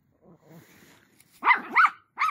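Dogs playing with a young male puppy: soft low whines and rustling, then a few loud, close yips and short barks in quick succession, with a brief pause before a final yelp.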